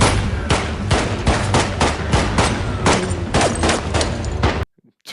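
Sustained gunfire from the film Constantine (2005): a loud, rapid fusillade of repeated shots with booming low end, continuing without pause before cutting abruptly to near silence.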